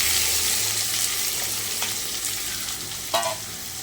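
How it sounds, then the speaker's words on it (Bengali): Chopped onions fry in a pan, a steady close hiss and sizzle with a few stirring scrapes and a brief clatter near the end. "এইভাবে পেঁয়াজটা নরম হওয়া অবধি আমি ভেজে নেব।"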